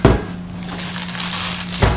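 Sanderson coated headers for a 1964 Ford Galaxie 500 are unwrapped from their packaging, giving a brief burst of crinkling and crunching that fades and then flares again at the end.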